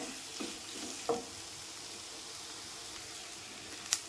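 Tomatoes with salt sauté in a pan for a chutney, giving a faint, steady sizzle with a couple of soft clinks from stirring.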